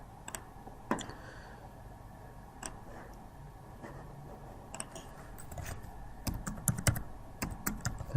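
Fingers typing on a computer keyboard at close range, a steady patter of light key clicks with scattered louder taps and a busier flurry of keystrokes toward the end.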